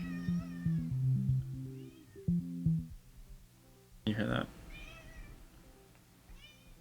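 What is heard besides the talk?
cats meowing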